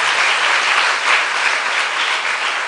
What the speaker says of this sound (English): Please, a round of applause to all our volunteers.